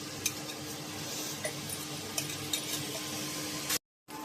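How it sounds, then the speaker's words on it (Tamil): Chopped onions sautéing with whole spices in a pot for a one-pot chicken biryani: a soft continuous sizzle with occasional ladle stirs and taps against the pan, no talking. "நறுக்குன வெங்காயம் அதையும் போட்டு வணக்கிக்கலாம்."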